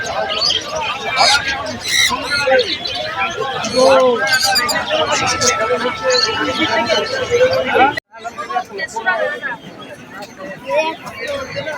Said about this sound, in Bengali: ককটেল পাখি